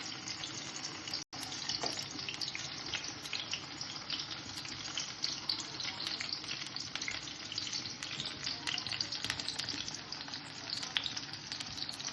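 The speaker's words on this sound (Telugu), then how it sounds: "అవి బాగా వేగాక ఈ అడుగుని వేగిపోయాక దీన్ని మళ్ళీ తిరగవేసి వేయించుకోవాలి." Stuffed potlas frying in a pan of oil, a steady bright sizzle with bubbling throughout, one brief sharp break near the start, no talking.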